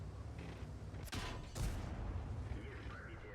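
Two sharp, loud tank cannon blasts ring out about half a second apart in World of Tanks, with the Bulldog light tank firing, followed by a rumbling tail and faint mechanical background.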